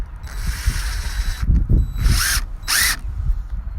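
Screws driven into two joined wall framing boards during tiny-home construction, heard as several short, loud whirring bursts of a power driver with ratcheting mechanical clatter, close by.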